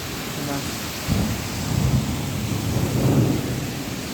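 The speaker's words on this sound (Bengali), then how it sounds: "অনেক বৃষ্টি নামছে দেখেন।" Heavy rain pours steadily during a Kalbaishakhi storm, with a dense wash of noise and low rumbling swells of thunder rising around the middle, loud and continuous.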